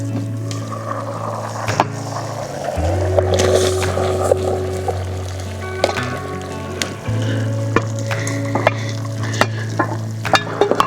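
Potatoes frying in a pan over a campfire in the remote Idaho backcountry, a steady close sizzle with scraping stirs and occasional clinks, under a low engine-like drone, no talking.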